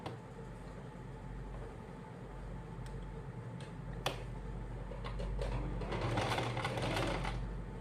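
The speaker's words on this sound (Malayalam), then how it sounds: "അപ്പോൾ ഇതുപോലെ ഇങ്ങനെ സ്റ്റിച്ച് ചെയ്യാം." A sewing machine stitching fabric for a baby moon pillow, a steady close mechanical whirr with rapid ticking of the needle, quiet and continuous, speeding up toward the end, with no talking.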